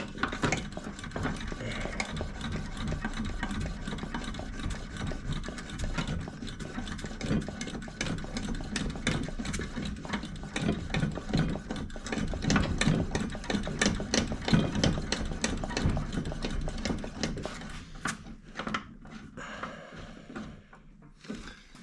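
A Coleman 236 Major lantern being pumped up, with a quick, steady series of mechanical strokes and faint rattling from the pump that runs for about eighteen seconds, then slows and stops.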